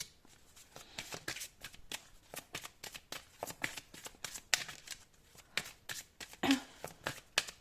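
Oracle cards being shuffled and drawn: rapid papery riffles and flicks in irregular bursts, close and fairly soft, with no talking.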